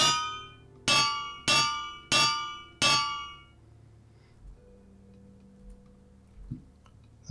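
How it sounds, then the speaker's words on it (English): Metal hammer striking an anvil in a video game: five loud, ringing clangs in an uneven rhythm, followed by fading resonance and quiet faint clicks and thuds. "now we should be able to give it a good old hammering"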